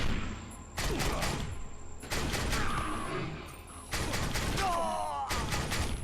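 Combat shotgun in the game Defiance firing three-round bursts, loud close blasts arriving in clustered groups separated by brief lulls, with mechanical clatter and faint ringing tails between volleys.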